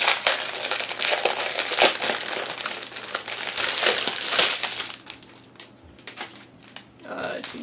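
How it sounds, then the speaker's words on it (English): Plastic packaging from a diamond painting kit crinkles and crackles loudly up close for several seconds, then the rustling thins out into quieter, scattered crackles. "Not like all that crinkly sound."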